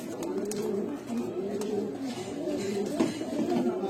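Pigeons of the Gorra and Khaki breeds coo in repeated soft, throaty phrases close by, with a faint voice in the background.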